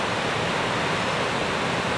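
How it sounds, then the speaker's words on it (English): The Reekie Linn waterfall on a river in winter produces a steady, unbroken rushing roar, heard from a little way off, with no other sounds or voices. "are Linn Falls, the Reekie Linn."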